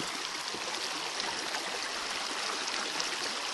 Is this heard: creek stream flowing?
yes